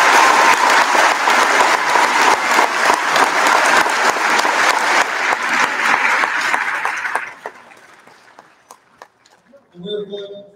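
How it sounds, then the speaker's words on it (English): Audience applause for range officers at the opening ceremony of the 2023 Daisy Nationals BB and Air Gun Championship Match, a loud, dense crowd clapping for about seven seconds before thinning out into a few scattered claps and faint voices. "Give them a round of applause."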